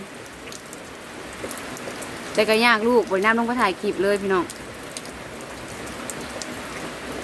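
Early-morning rain falls in a steady, even hiss, and someone speaks briefly over it partway through.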